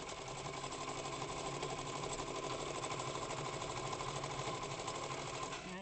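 Sewing machine doing free motion stitching on fabric flowers, a fast steady mechanical whirr running continuously and close up, with no talking over it.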